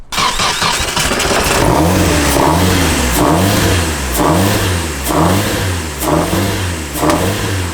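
A turbocharged Nissan S14 engine on a dyno, running with its injectors unplugged, revs in a loud repeating cycle, rising and falling roughly every second, up close and with no talk.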